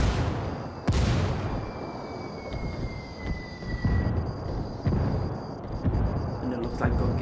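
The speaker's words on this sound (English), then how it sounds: "Mortar's going in" Heavy booming mortar fire in a video game, one sharp near blast followed by scattered dull impacts and rumbling under steady talk.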